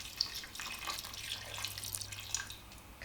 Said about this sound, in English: the next thing I'm going to do is add in my chicken broth